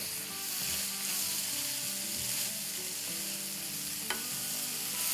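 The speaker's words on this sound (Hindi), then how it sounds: "चले इसको मिक्स करते हैं।" A sauce for PF Chang's-style lettuce wraps, made with balsamic vinegar, is stirred steadily in a bowl, a continuous soft swishing and scraping at moderate volume with no talking.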